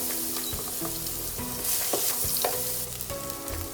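Ginger sizzles loudly in a hot frying pan for Japanese fried tofu steak, a constant crackling fry broken by scraping stirring strokes, close up with no talking.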